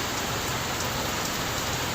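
Steady, dense afternoon rainfall pattering on surfaces, an even wash of noise throughout with no voices.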